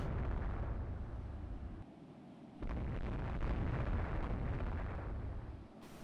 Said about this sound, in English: we're reporting 2 hits with 2 torpedo hits on the enemy destroyer force